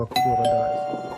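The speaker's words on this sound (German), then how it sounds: "Das ist die Klingel von Luke." A doorbell on a home set inside a Star Wars-themed shuttle rings once with a clear, sustained electronic tone, while a person speaks briefly over it.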